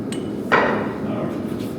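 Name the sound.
hammer striking punch on steel drops while forging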